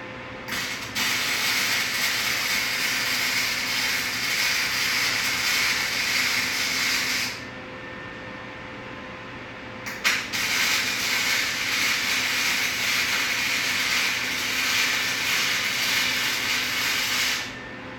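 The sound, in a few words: welding nuts in place on a rod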